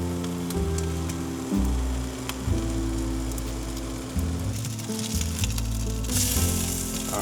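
Chocolate brioche slices sizzle steadily in a hot pan, a constant close crackle with occasional louder pops and no talk.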